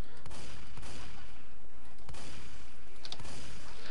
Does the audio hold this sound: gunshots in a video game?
yes